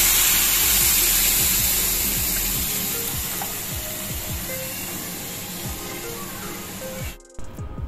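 Cooked lentils (parippu) hitting a hot chilli powder tempering in a pan, a loud hissing sizzle with stirring scrapes that slowly fades, ending in a brief clatter.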